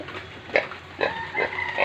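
Pigs in a pigpen grunting in a series of short, snorting grunts, four or five bursts at an uneven pace against a steady background hiss during heavy rain.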